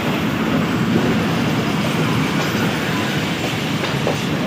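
A train arrives at Bhakkar railway station, a loud close continuous rumble of rolling wheels and wagons with rattling and clacking, and no voices.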